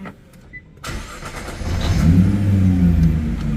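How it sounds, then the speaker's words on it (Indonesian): A Nissan GT-R Nismo's V6 cold-starts after a quiet interior pause, the starter catching and the engine flaring to a loud, rising rev before settling into a strong, steady idle, close and alone. "Wih, mantap emang cold startnya. Suara V6 khas GT-R-nya itu emang merdu banget sih."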